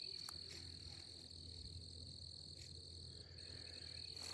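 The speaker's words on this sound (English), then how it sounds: "just listen to how quiet and peaceful it is. Hear them crickets?" A constant high-pitched cricket chirring fills a quiet night, steady and unbroken, with faint low croaks underneath.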